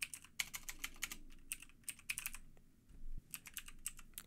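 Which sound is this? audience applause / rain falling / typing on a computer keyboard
typing on a computer keyboard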